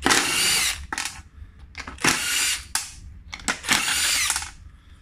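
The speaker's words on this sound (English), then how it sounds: "So this is where the 10mm driver works." A power driver with a 10mm socket undoes nuts on a two-piece all-terrain board rim, in three loud, close bursts of whirring and ratcheting separated by short pauses.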